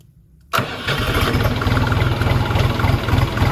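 A HORST L244 mini tractor engine cranks and catches after half a second of quiet, then settles into a loud, steady, close-up running chug with a rapid low pulse and no talking.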